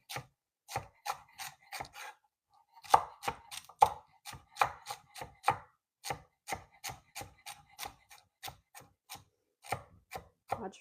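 Celery is cut on a cutting board with a knife, giving a string of crisp, fairly quiet chops that are sometimes steady and sometimes bunched in quick bursts, with short pauses between the bursts.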